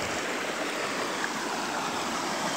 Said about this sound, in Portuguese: Aqui é um riacho. Corta a estrada.